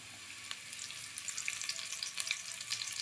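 Chana dal and curry leaves frying in hot oil with popping mustard seeds for a Kongu-style paruppu sadam tempering, a steady close sizzle with scattered crackles and pops, no voices.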